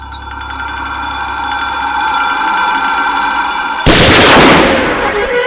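A single sharp gunshot rings out in a film hunting scene, chasing a rabbit in a forest, cutting loudly through a steady droning background.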